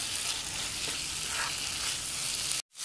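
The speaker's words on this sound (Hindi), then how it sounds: "बस इसको मैं अच्छी तरह भून लेती हूँ ताकि ऑयल निकल आए" Lemon tawa qeema frying in oil on a griddle, a steady loud hiss and crackle filling the whole stretch before cutting off abruptly near the end.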